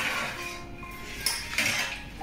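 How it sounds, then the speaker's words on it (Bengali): A metal lid is lifted from a pot of polao with a couple of sharp clinks and a scrape against the rim. Faint kitchen noise runs underneath, and no one speaks. "মিনিট 10 পরে আমি ঢাকনাটা সরিয়ে নিচ্ছি।"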